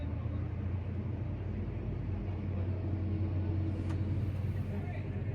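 A Claas tractor drives past on the road during a charity tractor run, a steady low engine rumble with road noise throughout, fairly close, with people talking over it.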